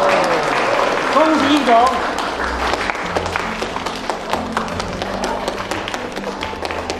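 Audience applause at a charity auction after a winning bid, many hands clapping steadily while a host speaks over it, with music in the background.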